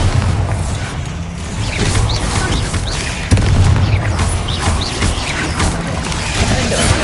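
Spell blasts from Confringo and Bombarda cast in Hogwarts Legacy, heavy booming impacts and rumbling magical bursts, with a louder blast near the midpoint over steady battle noise.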